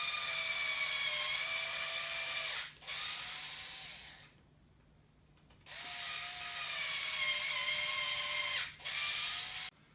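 A drill bores through to cut a thread for a bolt on a printer bed assembly, two loud whirring bursts with a rising whine, separated by a short quiet pause, no speech.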